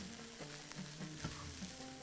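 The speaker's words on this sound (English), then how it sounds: "Keep mixing it." Green peas frying and being stirred in a pan over low heat, a soft steady sizzle broken by repeated light scraping strokes of the spoon, faint and close.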